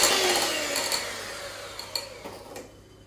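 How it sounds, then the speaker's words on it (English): Egg yolks and caster sugar whisked for a chocolate lava cake batter, a close, steady whirring that gradually fades, broken by a few light clicks of the whisk against the bowl. "we're just going to whisk it up until they're a nice creamy colour"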